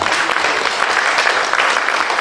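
A church congregation gives the pastor a loud, sustained round of applause, a dense and even wall of clapping that holds steady from start to finish.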